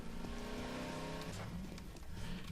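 Car in the Garry's Mod video game driving and revving with steady engine drone and rising pitch sweeps, loud and continuous throughout without talk.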